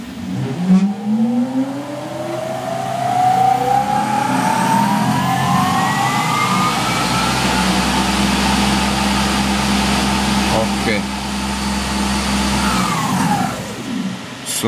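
A CNC spindle motor driven by a VFD spins up toward 4000 RPM, a rising whine climbing steadily in pitch over several seconds, then holding a steady loud hum before winding down near the end, close and alone.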